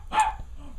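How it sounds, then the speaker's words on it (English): A puppy gives a single short, sharp bark, close and clear against a quiet room. "Do I hear a dog"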